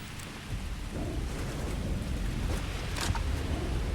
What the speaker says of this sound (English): Oh, it's freezing rain.